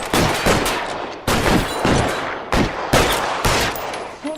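Gunshots in L.A. Noire, a series of loud sharp blasts, several in quick bursts with short echoing decays, close and dominant, no speech.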